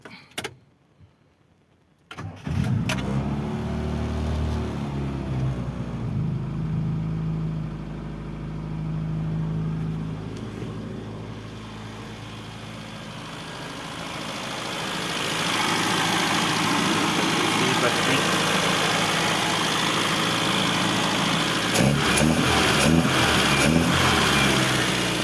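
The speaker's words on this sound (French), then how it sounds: "Là, je mets un peu de starter, le moteur est froid." A cold Rover Mini engine cranks and catches with the choke pulled, then idles steadily and close by, its note rising later as the revs pick up.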